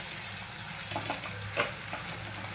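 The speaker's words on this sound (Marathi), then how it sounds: "कोथिंबीर घालूया आणि छान मिक्स करून घेऊया" Crushed roasted peanuts and coriander being stirred into green tomato chutney in a pan: a soft, steady sizzle with a few faint scraping strokes, fairly quiet and with no voices.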